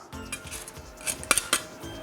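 Garlic cloves squeezed through a handheld garlic press, giving a few sharp metallic clinks and clicks near the end over light kitchen clatter.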